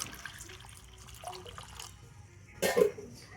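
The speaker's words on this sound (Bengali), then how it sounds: "আর এবারে আমি এই কাঁঠাল দানার মধ্যে দিয়ে দেব জল।" Water is poured onto halved jackfruit seeds in a brief, fairly loud splash near the end, after a stretch of faint, quiet handling sounds.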